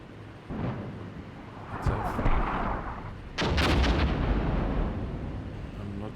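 Mortar artillery fire in the Cold War combat game Armored Brigade 2: two heavy booming blasts a second or two apart, the second louder and followed by a long rumbling tail.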